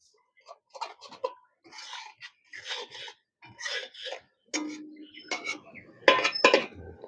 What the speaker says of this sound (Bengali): উল্টে পাল্টে নেড়ে ছেড়ে একটু মিশিয়ে নেব।